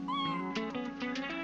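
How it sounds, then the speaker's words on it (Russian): Cat meowing in a family simulator video game for children: one drawn-out, tonal meow, fairly clear and close, with no talk over it. "Мяу!"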